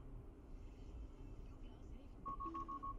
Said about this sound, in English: Listen for a beep.